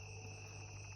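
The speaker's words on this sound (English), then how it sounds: "But I can hear frogs, and at this time of night, I mean, it can be deafening at sometimes." Frogs calling at night by a lake form a steady, continuous high chorus of trilling, insect-like calls. The sound is dense and unbroken, with a low drone underneath throughout.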